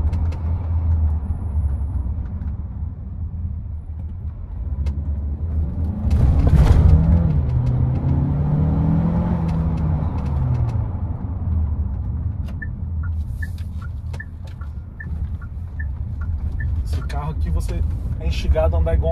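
A 2022/2023 Chery Tiggo 7 Pro with a 1.6 TGDI engine and dual-clutch gearbox climbs a hill at night, its engine a low steady rumble inside the cabin, rising in one strong surge midway while someone talks throughout.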